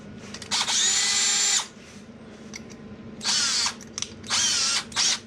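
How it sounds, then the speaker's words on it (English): A cheap Home Depot electric drill runs in bursts while drilling out stripped threads on a Harley-Davidson Street Glide, with three or four loud whining runs separated by short pauses, close up and without talk. "And now as we're drilling, don't want to go any further than that tape."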